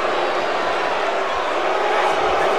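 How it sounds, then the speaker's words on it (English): A wrestling arena crowd in a video game roars with a dense, loud, unbroken wash of displeased shouting and jeering, continuous and close. "And this crowd not happy whatsoever"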